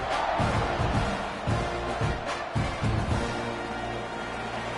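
A packed stadium crowd at a Tennessee vs Texas A&M college football game roars during a kickoff after a scoring drive: a dense, sustained wall of cheering that swells and dips and carries on without a break.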